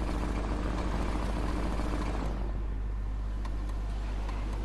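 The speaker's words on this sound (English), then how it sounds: "Listen to the engine chugging." A Rolls-Royce Viceroy car engine in Fortnite rumbles low and steady, chugging continuously at close range, then eases slightly lighter toward the end.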